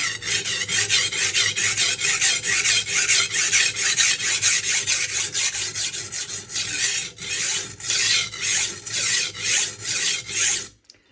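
A knife edge scraped over a coarse Norton Crystolon double-sided oilstone with oil, a rapid, even rasp of back-and-forth strokes repeating close up, ending abruptly.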